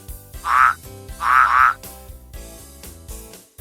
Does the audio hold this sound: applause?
no